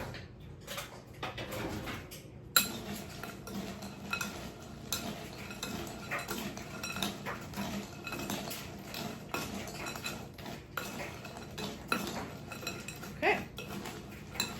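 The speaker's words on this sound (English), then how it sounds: "All right, so now you're going to mix this all together." Butternut squash bisque ingredients are mixed together in a bowl, with quiet irregular clinks and scrapes of utensil against bowl and soft stirring sounds, fairly faint and close, no talk.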